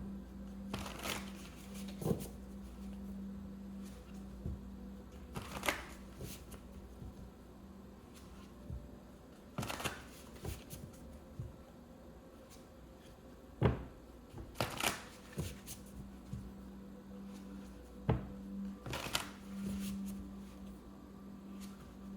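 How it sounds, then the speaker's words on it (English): A deck of tarot cards is shuffled over and over, with crisp riffling bursts spaced a few seconds apart over a quiet, steady background hum. "let's pull some tarot"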